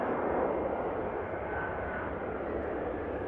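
An EasyJet airliner touching down at Manchester Airport rumbles and roars at a steady, moderate level, a broad continuous engine noise heard from a distance without voices.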